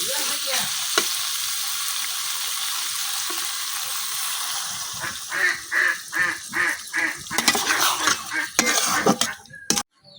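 Potato and bean curry cooks in a pan after water is added, a constant hiss and bubbling sizzle, then a run of rhythmic stirring scrapes and a final clatter of utensil against the pot.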